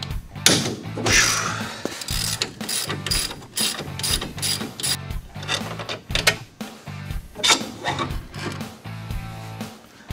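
A ratcheting hand tool clicks in rapid bursts while ball joint bolts are loosened on a Polaris RZR UTV, loud and close, with short pauses between strokes.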